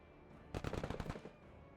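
Gunfire in the tactical video game Menace comes as a quick automatic burst of about eight rapid shots lasting half a second, fairly faint against a quiet background hum.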